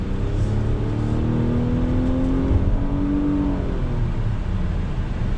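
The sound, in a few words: 2020 Infiniti QX60 Luxe accelerating on throttle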